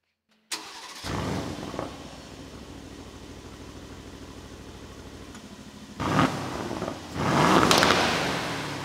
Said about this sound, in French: On a un gros V8, on accélère, ça ça bouge comme un V8